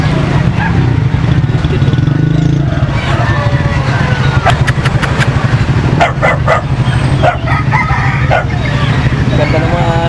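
Dogs barking and yipping at a busy outdoor animal market in San Carlos, Pangasinan, sharp repeated barks over steady engine and traffic noise and crowd chatter.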